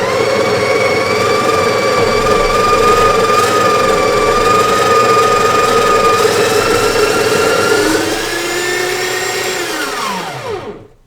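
A Breville espresso machine grinds coffee into a portafilter with a steady, loud, high whirring drone that holds for about eight seconds, then winds down in pitch and stops.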